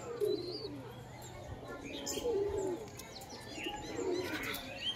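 Several pet pigeons coo repeatedly in low, rolling phrases, with chirpy bird calls mixed in against steady outdoor background noise.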